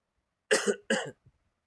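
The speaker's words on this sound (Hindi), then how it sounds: "खांसी बहुत जबरदस्त आ रहा है" Two quick, close coughs in succession, loud and abrupt, followed by a faint trailing sound and silence.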